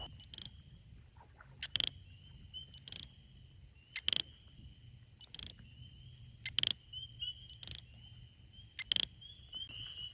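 Rapid, very high-pitched clicking bursts from a chorus of little grass frogs in South Georgia, repeating roughly every second in short clusters over a quiet low background hum.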